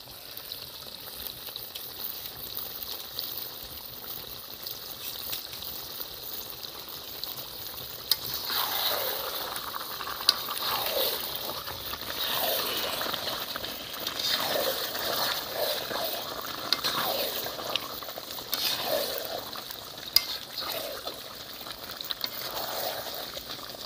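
Meat being sautéed and stirred in a pot with salt at an outdoor village picnic, a steady sizzle with intermittent scraping stirs and splashy bursts, moderately near and continuous throughout.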